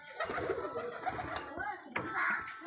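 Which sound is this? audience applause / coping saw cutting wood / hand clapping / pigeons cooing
pigeons cooing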